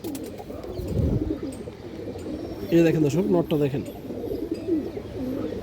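Dobash pigeons of pure bloodline cooing in repeated rolling calls close by, while someone talks over them.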